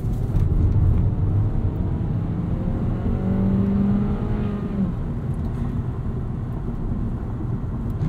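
A 2016 Volkswagen Jetta SE with a 1.4L turbo engine pulls steadily, its engine note rising in pitch across a gear before easing to a constant drone, heard loud and close from inside the car without talk.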